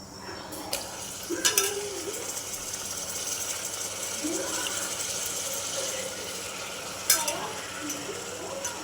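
Raw chicken for a chicken curry sizzles loudly in a pan as a utensil stirs it, giving a steady frying hiss with a few scraping strokes and clinks, close and with no speech.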